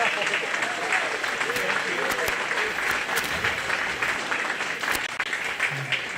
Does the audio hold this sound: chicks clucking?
no